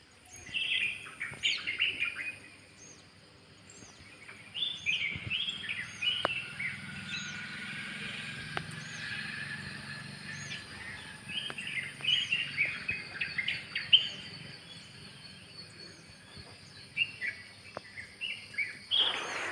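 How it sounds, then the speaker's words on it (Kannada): Small birds chirp and tweet in the morning near farmland, with repeated bright calls overlapping at moderate distance over a quiet background and a faint insect hum. "ಮನೆಯಿಂದ ಕಡೆ ತೋಟಗಳೆಲ್ಲ ಇರೋದ್ರಿಂದ ಈ ಪಕ್ಷಿಗಳ ಚಿಲಿಪಿಲಿ ಸೌಂಡ್ ಅಂತೂ ತುಂಬಾ ಮಧುರವಾಗಿ ನನ್ನ ಕಿವಿಗೆ ಕೇಳಿಸ್ತಾ ಇತ್ತು"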